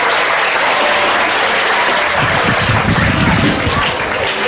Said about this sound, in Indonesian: Boleh tepuk tangan buat Ustaz Selamat.